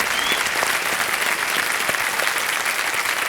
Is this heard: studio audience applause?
yes